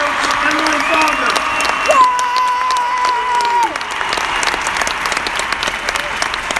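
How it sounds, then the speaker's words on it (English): A crowd applauds steadily and loudly throughout, with some cheering and a host's voice heard under the clapping. "Coaches, can you help me give one more round of applause for superstar diamond coach Emily Fowler?"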